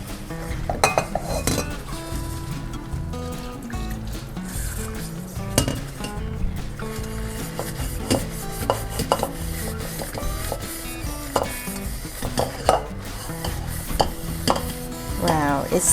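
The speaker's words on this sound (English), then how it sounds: "Baking soda and vinegar work very well in cleaning this pot." A stainless steel pot is scrubbed clean with baking soda and vinegar, giving close, repeated metallic clinks, scrapes and rattles of metal against metal in an irregular rhythm, with light fizzing in the background.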